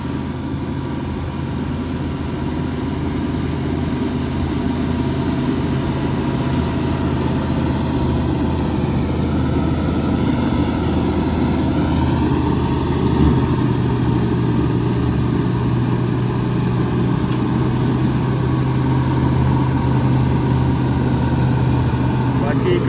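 A John Deere 4x4 tractor engine runs steadily at a quiet, even idle-like drone for the whole stretch, with a low continuous rumble and no gaps or revving.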